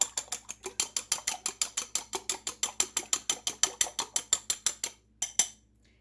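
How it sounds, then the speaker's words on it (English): A fork whisks eggs, sugar and butter in a bowl, making rapid, evenly spaced clicking strokes at close range before briefly stopping. "I'm going to find a fork and whisk that up"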